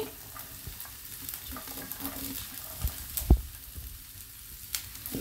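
Vegetables, including green peas, frying in a hot wok, with a soft steady sizzle, occasional stirring scrapes and a sharp clank of a utensil midway.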